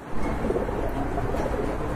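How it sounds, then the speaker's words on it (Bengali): Large pigeons for sale at a bird market, cooing continuously and close by, their soft throaty calls overlapping through a low, busy background. "এগুলো অনেক বড় সাইজের কবুতর"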